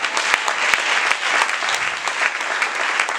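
Congregation applauding at a church service, a steady dense clapping that holds for a few seconds with sharper individual claps standing out, fairly close and loud, no voices over it.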